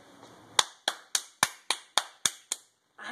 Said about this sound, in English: I'm a seal, and I clap my hands.